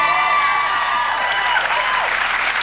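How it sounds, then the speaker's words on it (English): Steady, dense audience applause fills the room at close range, sustained without letup from start to finish. "If I keep saying that, will everybody just keep applauding?"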